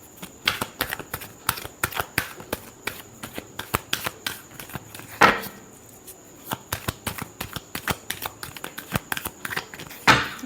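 Tarot cards are shuffled by hand close up, a rapid run of crisp papery riffles and taps in quick bursts, with two louder bridging flourishes partway through and no speech.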